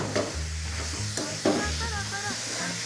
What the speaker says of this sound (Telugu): అప్పుడు జీలకర్ర వెల్లుల్లిపాయతో పాటు దీన్ని ఈ పచ్చివాసన అంతా పోయే వరకు మగ్గించుకోవాలి